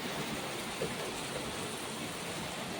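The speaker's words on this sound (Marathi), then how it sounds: "बघा खूप जोरात पाऊस येत आहे" Steady, dense hiss of heavy night rain pouring down without pause in Nagpur, a broad wash of sound with no voices.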